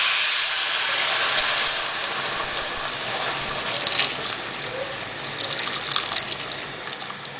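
Water is poured into a cooking pot holding a whole onion and bay leaves for Botswana seswaa. It makes a steady, close gushing hiss that eases slightly as the pot fills.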